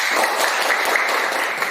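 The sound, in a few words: applause for group 4 in a classroom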